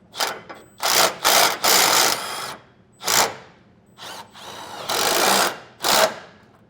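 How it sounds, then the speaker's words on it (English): Power tool driving a 7/32 hex socket to tighten bolts on Firestone Ride-Rite rear air helper springs of a 2023 Ford F-250, a string of loud, close whirring bursts of varying length with short pauses between them. "I'll take a 7/32 hex socket and tighten those down."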